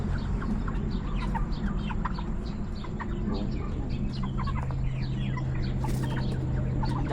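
Several large chickens cluck and squawk close by in a backyard setting, irregular bursts over a steady rural background hum, with no talking.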